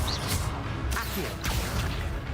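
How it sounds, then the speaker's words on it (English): Accio summoning spell cast in the video game Hogwarts Legacy, sharp magical whooshes and swishes with a whip-like snap over a dense, rumbling game backdrop. "Accio."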